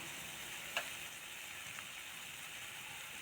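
Boondi batter deep-frying in hot oil for motichoor laddu, a faint, even bubbling sizzle with one sharp tick early on, steady and alone.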